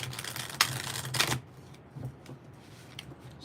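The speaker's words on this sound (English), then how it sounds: "I'm shuffling, waiting for the question." Tarot cards are shuffled in two quick riffling bursts, followed by quieter scattered taps and shuffles as the deck settles.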